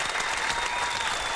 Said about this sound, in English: Keep the applause going for me